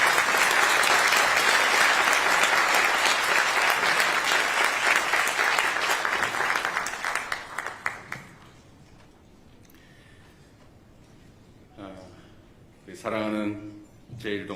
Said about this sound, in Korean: 다 함께 힘찬 박수 부탁드리겠습니다